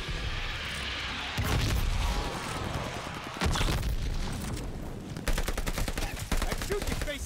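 Gunfire in the video game Call of Duty: Vanguard, with loud booming shots and rapid bursts of automatic fire repeating across the clip, heavy and dense with rumbling impacts.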